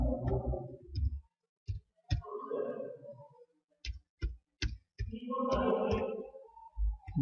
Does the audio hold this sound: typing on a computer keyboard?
yes